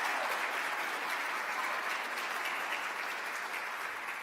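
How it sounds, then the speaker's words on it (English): An audience at a spring school choir concert gives steady, even applause for the singers, a continuous wash of clapping heard from within the hall. "So if we could give them a round of applause for the fall all East"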